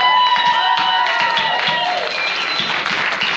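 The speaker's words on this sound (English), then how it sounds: "Based on the applause lines" An audience at a Texas Speaker of the House debate applauding, loud, sustained clapping from a large crowd mixed with cheers and whoops throughout, voices shouting within the ovation.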